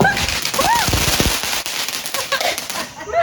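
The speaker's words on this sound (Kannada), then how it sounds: "ಆ್ಯಂಡ್ ಇಲ್ಲಿ ಪಟಾಕಿ ಹೊಡಿತಾ ಇರೋದು" Firecrackers burst during a family Diwali celebration in India, with a cluster of sharp cracks and pops standing out amid a dense, noisy background of continuous festive crackling, with faint chirping tones woven through.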